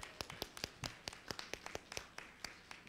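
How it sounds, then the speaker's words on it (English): A church congregation applauding fathers on Father's Day: a small, sparse group clapping with distinct, separate hand claps in an uneven rhythm, fairly quiet and heard alone. "Can we give our fathers a round of applause?"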